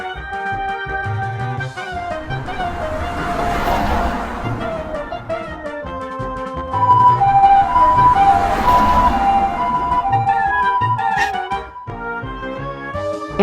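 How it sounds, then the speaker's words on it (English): Ambulance siren in a children's vehicle cartoon, a loud wailing tone rising and falling in repeated sweeps over a backing of bright music, with no talking. "ambulance,"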